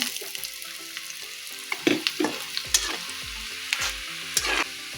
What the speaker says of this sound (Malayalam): ചട്ടി വെച്ചു എണ്ണ ചൂടായി നമുക്കൊരിത്തിരി കടുക് ഇട്ട് കൊടുക്കാം